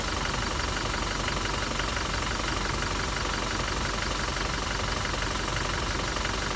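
A Toyota Innova Crysta engine, driven 1.5 lakh, idles with a steady, dense mechanical rumble and faint knocking texture, loud and continuous with no talk.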